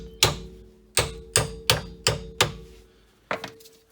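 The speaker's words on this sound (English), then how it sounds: "You may have to use a hammer to pound the socket on" Hammer blows drive a socket onto a tie rod nut on a 1999-2004 Jeep Grand Cherokee, six sharp metallic strikes at an uneven, fairly quick pace with a pause before the last, close and clear with no talking.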